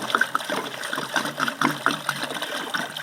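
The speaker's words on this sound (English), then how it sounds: "So we're changing out the water." Water being poured out and changed in a container outdoors in the woods, a continuous trickling and splashing with small gurgles, moderately close and fairly quiet.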